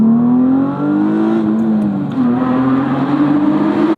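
A 2006 Mitsubishi Eclipse GT with a naturally aspirated 3.8-litre V6 pulls hard through a tunnel, its loud engine note climbing steadily in pitch, dipping briefly at a shift, then rising again before cutting off abruptly.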